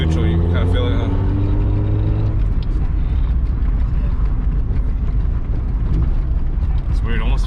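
A Honda CRX rolls along, even in neutral, with a steady low road rumble and droning tire noise like a flat tire, under continuous conversation inside the car.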